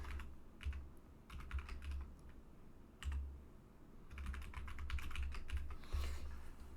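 Password being typed on a computer keyboard during a Debian 13 installation, with quick bursts of close key clicks separated by short pauses, alone without talk.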